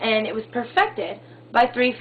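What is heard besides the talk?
No distinct noise like a dog, phone or traffic.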